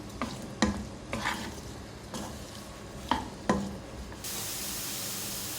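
Sliced onions and cumin seeds frying in a pan, a soft sizzle under several brief stirring scrapes spaced about a second apart, ending in a steady sizzle with no speech.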